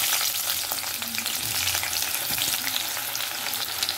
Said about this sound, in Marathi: आता मी असे बारीक कापलेला म्हणजे लांब लांब कापलेला कांदा फ्राय